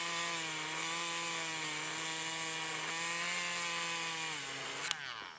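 A battery-operated Ohuhu electric eraser rubbing on paper, giving a steady high-pitched motor whine with a rough scraping edge for about five seconds before it cuts off with a small click.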